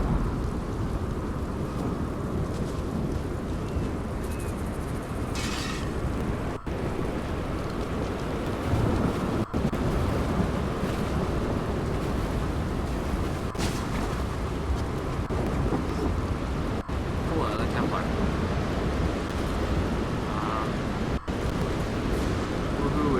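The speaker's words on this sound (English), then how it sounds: "raining." Video game rain in The Elder Scrolls Online: steady heavy rain hisses throughout, with low rolling thunder rumbling underneath and occasional distant cracks.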